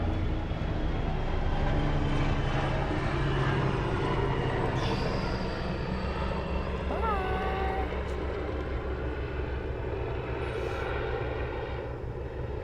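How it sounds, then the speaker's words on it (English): A helicopter passing overhead outdoors gives a loud, steady rotor and engine roar that fills the whole stretch without a break, easing off slightly toward the end. "Oh, it's a helicopter."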